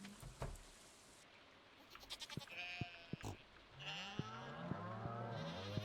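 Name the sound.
goats and farm animals bleating in the video game Stardew Valley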